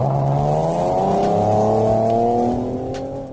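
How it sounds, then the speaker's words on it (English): An Audi A4 Quattro with a naturally aspirated 4.2-liter V8 accelerates, its engine note climbing smoothly in pitch, loud and close, easing slightly toward the end with no talk. "that V8 soundtrack is one of the best in its price category"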